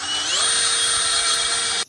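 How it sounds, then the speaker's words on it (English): A power drill standing in for a die grinder, grinding the ports of a cylinder head, gives a loud, steady, high whine that rises briefly in pitch and then holds, alone, for under two seconds before cutting off. "Drill works."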